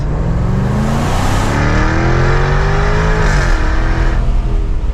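A 2024 Jaguar F-Type R75 AWD Convertible's supercharged V8 roars as the car pulls away, its pitch climbing through the gears, loud and close.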